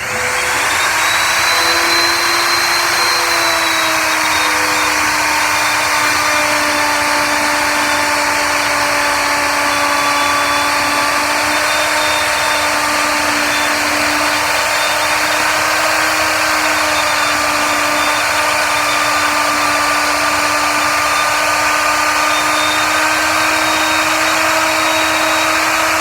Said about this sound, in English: the router creates a lot of sawdust